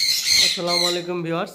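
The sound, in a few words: pet birds squawking at a bird farm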